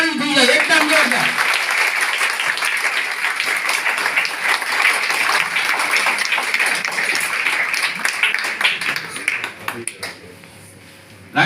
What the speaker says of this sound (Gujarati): તો જોરદાર તાળી થઈ જાય, એકદમ જોરદાર.